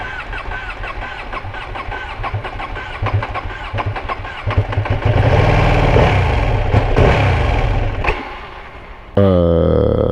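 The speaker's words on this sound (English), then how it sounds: "It keeps dying." A 2020 Ducati Panigale V2 engine repeatedly cranks, catches and dies, with uneven bursts of revving before cutting out, then a brief restart near the end, close and loud.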